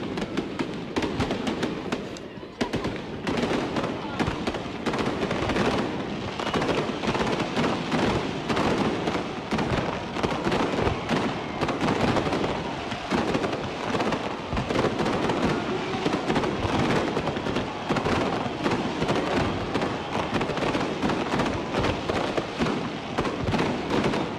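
New Year's Eve fireworks in Darwin, a dense, continuous barrage of crackling bursts and booms going on steadily for over twenty seconds, loud and filling the whole scene, with no talking heard.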